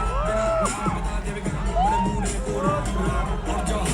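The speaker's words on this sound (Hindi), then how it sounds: "तो तालियां और जोरदार होनी चाहिए।" College campus event audience, loud and dense, roaring with cheers, whoops and shouts amid crowd hubbub, with voices calling out over the steady noise throughout.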